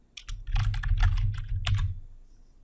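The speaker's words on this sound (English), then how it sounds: "with the help of the keyboard, I type in January." Close, brisk typing on a computer keyboard while entering a word into a spreadsheet cell, a quick run of key clicks over a low thumping base lasting about two seconds.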